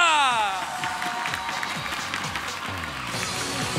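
A studio crowd at a live televised singing-competition gala applauds and cheers a performer, a dense continuous wash of clapping at steady loudness rising out of a fading musical tail, with no one speaking over it.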